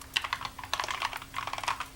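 Quiet, rapid keystrokes on a computer keyboard, made while navigating in the Vim editor, form a steady patter of light clicks close to the microphone with no talking.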